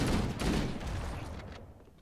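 Shotgun fire in Halo CE, a dense burst of loud blasts right at the start that decays into a rumbling tail, with no talking.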